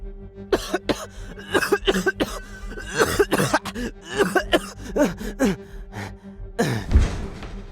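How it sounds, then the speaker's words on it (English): Harsh, repeated coughing fits with gasping breaths in between, loud and close, ending in a strained, heavy cough. "then the coughing started"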